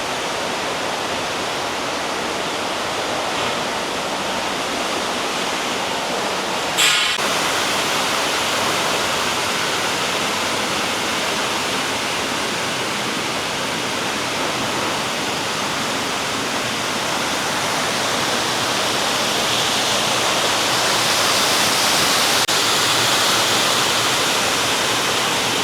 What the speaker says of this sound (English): So, some water running here.